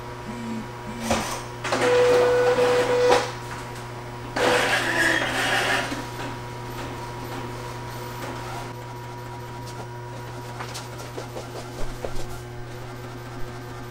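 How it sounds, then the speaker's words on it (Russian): A printer runs an A4 target sheet, its mechanism whirring in two loud bursts over a steady low hum, then settling to quieter clicks and shuffles near the end. "И наш принтер начинает печатать."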